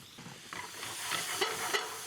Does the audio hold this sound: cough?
no